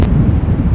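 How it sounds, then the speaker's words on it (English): Storm wind gusting at Amsterdam Schiphol Airport during Storm Pia, a steady low roaring rumble buffeting the microphone throughout the short clip with no voices. "This is also where the wind is coming from"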